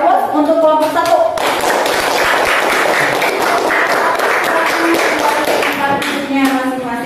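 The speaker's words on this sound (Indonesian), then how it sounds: "Ya, mari kita beri aplaus untuk kelompok 1." Classroom of students applauding a presenting group, a dense burst of clapping lasting several seconds, with talking and children's voices around it.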